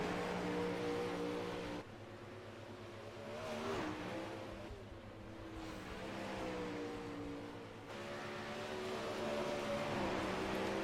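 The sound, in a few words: 360 sprint cars racing around track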